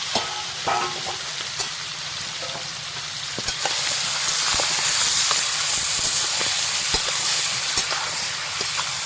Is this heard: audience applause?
no